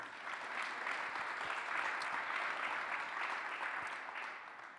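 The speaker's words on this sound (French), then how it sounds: "Je vous demande d'accueillir et d'applaudir Marie Humblot Ferrero." Sustained audience applause at a conference session on governing in uncertain times, steady dense clapping filling the whole stretch at moderate loudness with no talk over it.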